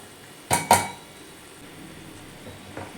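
A metal spoon clinks twice against a pot while vada curry ready-mix is stirred into water, two sharp close knocks followed by quiet background hiss.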